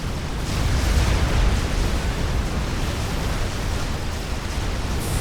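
In a FAF real-time strategy match, artillery units blow apart as they are shot down, giving a loud, dense rumble of explosions that rolls on without a break.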